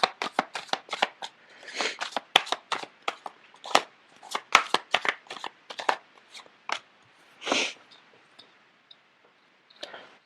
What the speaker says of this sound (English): The cards are not shuffling too well.